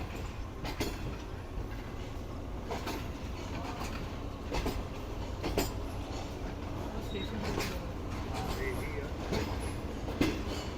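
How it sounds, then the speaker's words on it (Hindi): Pak Business Express passenger train pulling into Lahore Junction, a steady rumbling rail roar with periodic clanks and knocks from the carriages, heard from on board as someone speaks over it. "ये फाइनली लाहौर जंक्शन पे पहुंच चुकी है हमारी ट्रेन।"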